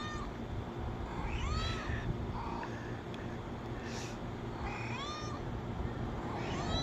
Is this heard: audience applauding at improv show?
no